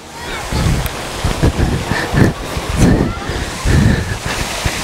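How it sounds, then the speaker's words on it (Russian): Water splashes and rushes steadily in a fountain, a continuous broadband wash with several louder surging bursts throughout. "я специально ради вас залез в фонтан"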